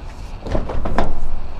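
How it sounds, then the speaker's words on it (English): Sliding side door of a 2016 Ford Transit 12-seater van rolling open in a short, loud, close rumbling slide with a few rattling clunks as it travels along its track. "Ooh, that door's really easy to slide."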